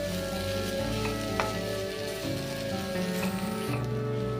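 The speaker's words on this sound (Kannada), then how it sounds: "ಹುರ್ಕೋಬೇಕು ಕೊಬ್ಬರಿನೆಲ್ಲ" Grated coconut roasting in a pan over a medium flame, giving a steady close sizzle with soft scraping stirs and a few light clinks of the spoon against the pan.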